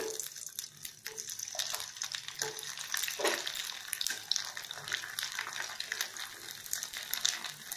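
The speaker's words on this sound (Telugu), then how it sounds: "Let us drop them into oil." Rice fryums, crisp vadiyalu made from cooked rice, drop into hot oil for deep frying, giving a steady bubbling sizzle with crackling and splashy bursts, moderately loud and close, with no talk.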